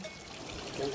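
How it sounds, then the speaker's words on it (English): Water running at a small mountain bothy on the Tour of Monte Rosa, a steady pouring trickle heard briefly and fairly faintly. "As you can see, there's running water,"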